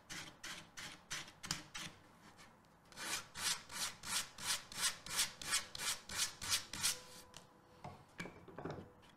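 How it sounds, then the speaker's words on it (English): Sandpaper rubbed along the edges of applied edging tape on a wooden shelf, a close run of quick rhythmic scraping strokes, faster and louder in the middle, with no talk. "Sandpaper again. Take down your edges."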